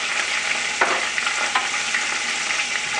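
Curry leaves and whole green chilies fry in hot oil, giving a loud, steady sizzle with crackling pops and a few sharp spits, heard close up with no talk.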